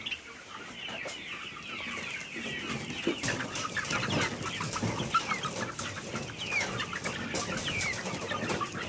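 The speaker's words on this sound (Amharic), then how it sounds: "አሁን ዶሮቹ እንዴት እንደሚመገቡ ላሳይሽ ይፈልጋል።" Chickens cluck steadily at close range while feeding on a poultry farm, a dense continuous chatter of many birds with scattered louder calls and no talk.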